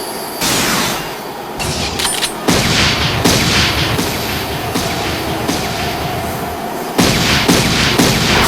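Sustained anime gunfire rattles in dense, loud bursts with barely a pause, heavy cracks and booms stacking into a continuous fusillade.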